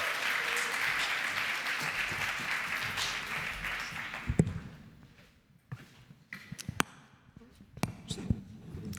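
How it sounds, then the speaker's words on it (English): An audience at the ETHGlobal New York 2025 hackathon closing ceremony applauds for about four seconds, then the clapping fades into scattered taps and room noise. "Please give them a big round of applause."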